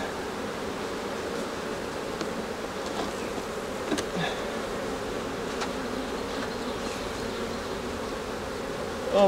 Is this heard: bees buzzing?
yes